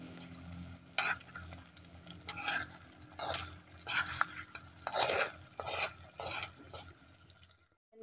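Eggs frying in a pan for breakfast, with bursts of crackling sizzle and stirring that swell and fade over several seconds, fairly quiet with no talk.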